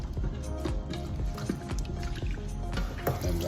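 Running tap water splashing over raw turkey meat being rinsed for a Haitian turkey dish, a steady faint trickle with drips and small clatters, no talk.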